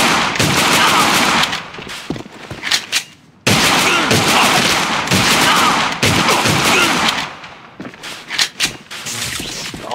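Rapid pistol gunfire in the online shooter AVA, loud bursts of closely spaced shots filling most of the stretch, with a brief pause before firing resumes.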